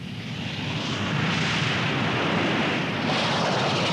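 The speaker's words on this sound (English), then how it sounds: "the jet engine has permitted the design of fast, versatile aircraft like Britain's Harrier jump jet" A Harrier jump jet engine roars in a steady, loud, broadband rush that swells slightly and holds for a few seconds with no voices.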